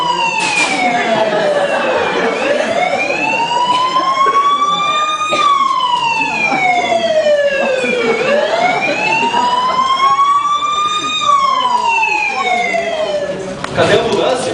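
An ambulance siren in a staged dramatization wails loudly and continuously, sweeping up and down in long, slow cycles for the whole stretch.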